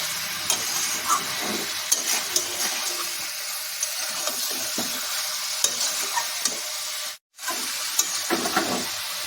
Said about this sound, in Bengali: মাঝে মাঝে ঢাকা খুলে নেড়ে নিতে হবে, যাতে করে মাংসটা নিচে না বসে যায়।